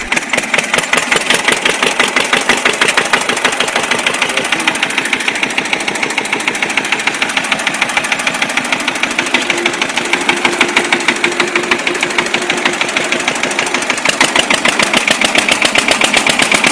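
A tractor engine runs close by, a loud, evenly pulsing diesel chug that holds steady the whole time with no speech over it.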